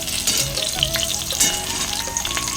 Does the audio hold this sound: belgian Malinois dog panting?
no